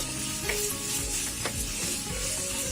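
Potatoes frying in a pan for village-style khud rice khichdi, giving a steady, soft sizzle with faint stirring clicks.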